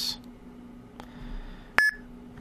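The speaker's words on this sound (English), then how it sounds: "you'll hear a little beep sound" A single short, sharp electronic beep from a Bitcoin wallet confirming a sent payment sounds near the end, fairly loud against a quiet room with a faint steady hum. Fainter clicks and taps come before it.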